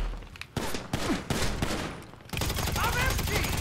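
Bursts of heavy gunfire from a Grand Theft Auto 5 shootout, dense rapid shots crackling in a few loud clusters with a continuous volley toward the end, close and harsh.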